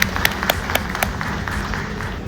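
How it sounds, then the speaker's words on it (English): An audience claps after a glassblowing demonstration at a glass museum, giving modest, steady applause with a few sharp, distinct hand claps standing out near the start. "give them a round of applause for a lovely,"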